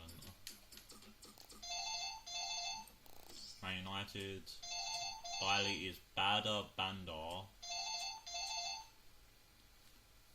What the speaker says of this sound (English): Phone's just really annoying. I can't answer it at the moment.